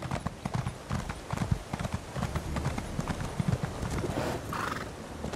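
A horse's hooves clip-clopping in Elder Scrolls Online, a quick irregular run of hoofbeats that stays close, with a whinny near the end.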